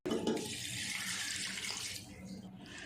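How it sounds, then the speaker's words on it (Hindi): Two glasses of water poured into a pressure cooker holding broken rice and carrots for gajar kheer, a close, steady gushing splash lasting a few seconds before tapering off. "अब 2 गिलास हम इसमें पानी डाल देंगे।"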